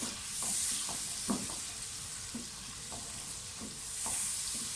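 A spoon scrapes rhythmically around a pan while white chickpea curry sizzles and fries steadily underneath, close and fairly loud.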